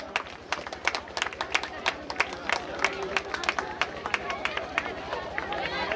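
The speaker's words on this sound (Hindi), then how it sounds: "जोरदार तालियों से धीरज सर का स्वागत करिए।" An audience at a 2017 children's theatre festival claps steadily to welcome a guest, a dense, even patter of many hands with faint murmuring underneath.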